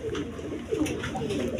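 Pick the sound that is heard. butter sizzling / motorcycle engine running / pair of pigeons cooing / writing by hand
pair of pigeons cooing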